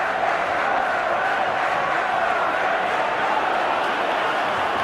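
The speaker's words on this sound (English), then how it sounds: "The crowd noticeably getting louder as we are in the final seconds" A steady, dense roar of a large stadium crowd in an NFL football video game during the final seconds, loud and continuous, swelling slightly with a broad wash of cheering and no pauses.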